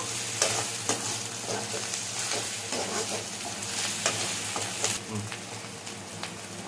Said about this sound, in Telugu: అందుకే త్వర త్వరగా ఫ్రై చేసుకుంటున్నాను